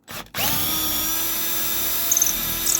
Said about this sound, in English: Does this make you queasy, drilling into the playfield?